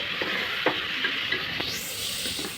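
Mutton sizzles and fries in masala for gongura mutton, a steady hiss with soft scraping stir strokes repeating every half second or so, close up and without speech.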